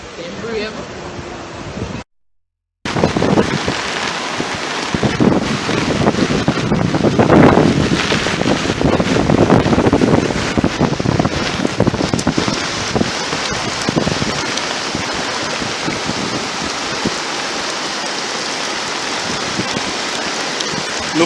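Heavy tropical storm rain with gusting wind battering a Jamaican street, a dense steady roar close to the microphone after a brief silent gap, with voices talking underneath.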